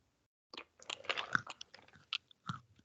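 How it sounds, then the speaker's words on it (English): Someone chews peanuts right up against the microphone, producing close, crunchy, irregular bites and mastication sounds after a moment of silence, with no talking. "Now chew it really close to the microphone."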